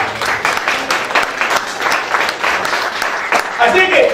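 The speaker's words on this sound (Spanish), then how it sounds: "Denle un aplauso al Señor." Congregation clapping loudly during a Spanish-language church sermon, a dense, sustained round of applause close and full throughout, with a voice rising briefly near the end.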